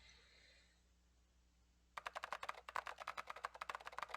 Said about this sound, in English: Click-clack of keys running together like machine gun fire